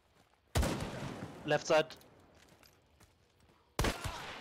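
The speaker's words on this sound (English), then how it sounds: "I hit him with a shotgun first with the Lamat" Shotgun blasts in a Crytek first-person shooter match, two sharp loud booms a few seconds apart with brief gunfire clatter between them, and a player speaks quickly.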